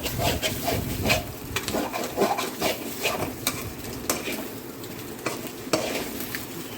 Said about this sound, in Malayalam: ഇതിങ്ങനെ കുറേശ്ശെ കുറേശ്ശെ ഫ്രൈ ആക്കി എടുക്കുക